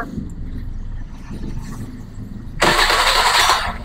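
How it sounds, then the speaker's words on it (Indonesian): A Honda Beat FI motorcycle with a suspected dead ECU and a rough starter is cranked and catches, jumping abruptly from a low background rumble into a loud, close, steady running engine. "mekanik bengkel nyalakan motornya"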